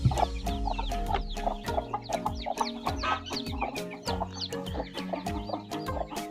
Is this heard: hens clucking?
yes